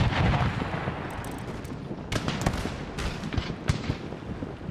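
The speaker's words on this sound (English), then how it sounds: "34 cannons ready." A warship's cannon broadside in Empire: Total War booms out as a series of separate heavy blasts, spaced irregularly over a rumbling battle backdrop, with several sharp shots clustered in the middle and near the end.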